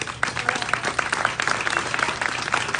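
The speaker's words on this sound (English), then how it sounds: "So please join me in a round of applause" Dense, even audience applause fills a room at an awards dinner: steady overlapping clapping from a crowd, moderately loud and continuous, with no talk over it.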